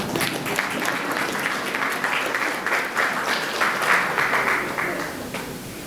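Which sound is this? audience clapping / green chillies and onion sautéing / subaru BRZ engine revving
audience clapping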